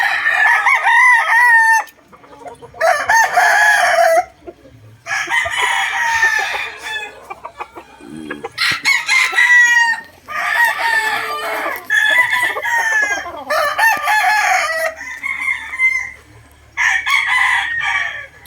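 A backyard gamefowl rooster crows loudly and close by, several long calls in a row separated by short silences.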